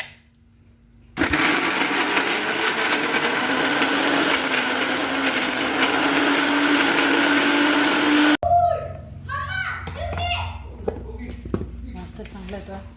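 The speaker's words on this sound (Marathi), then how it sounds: "आता आपण हे सगळं वाटून घेणार आहोत." A kitchen mixer grinder runs steadily for about seven seconds, grinding a black masala paste of roasted ingredients for a pea curry, then cuts off abruptly, followed by clinks and a voice speaking.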